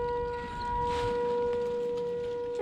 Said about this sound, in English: Naturally, the second I start filming, the tornado siren